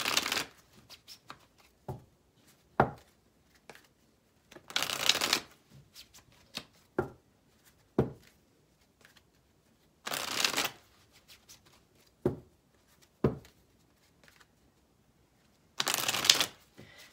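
Cards are riffle-shuffled up close, loud bursts every few seconds with quieter taps and flicks of the deck in between.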